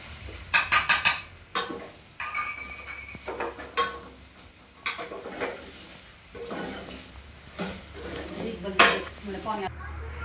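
Hot oil sizzles and crackles as tempering spices hit the pan, with sharp metallic clatters and stirring scrapes close by, while cooking a vegetable dish.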